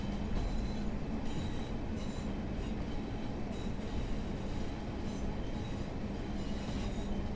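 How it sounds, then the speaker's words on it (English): Class 142 Pacer train wheels squealing against the rail flanges in Train Sim World 4, with intermittent high-pitched squeals over a continuous rolling rumble of the railcar, and no talking. "Love those flange sounds"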